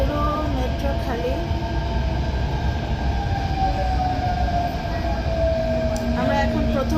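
A near-empty metro train on a Sunday rumbles steadily from inside the carriage, a continuous loud roar of wheels and motors with faint high tonal whines running throughout.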